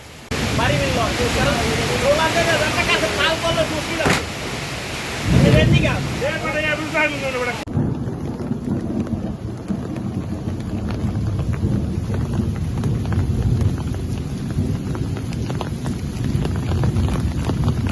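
Heavy storm rain pours as a dense, roaring wash throughout, loud and unbroken, with a person talking over it during the first few seconds.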